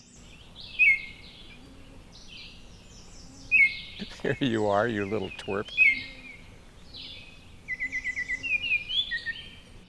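Bright whistled Baltimore Oriole song phrases repeat in short bursts, with someone speaking briefly in the middle and a rapid chattering series near the end.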